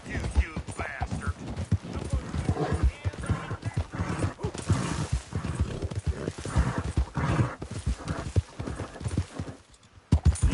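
Hooves clip-clop rapidly as a horse gallops in a video game, a close, continuous rhythmic pounding with occasional whinnies and a voice speaking over it.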